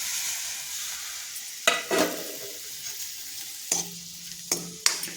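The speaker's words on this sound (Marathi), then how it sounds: "टॅमॅटो आपल्याला मऊ होईपर्यंत असा परतायचा आहे" Tomatoes stir-fried in a pan with red chilli powder for a dry Marathi ghevda bhaji, giving a soft steady sizzle with several sharp spatula scrapes and clanks against the pan.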